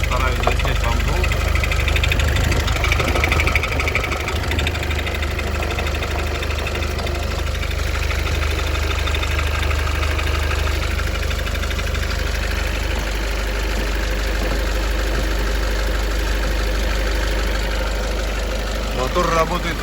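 A Great Wall Hover H5's 4D20 diesel idles cold, a loud, close engine with a steady deep rumble and continuous rhythmic knocking that holds evenly for about twenty seconds.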